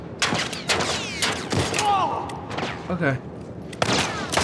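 A firefight in The Last of Us Part I: sharp gunshots crack out in irregular bursts, some overlapping, alongside shouted voices and a brief exclamation.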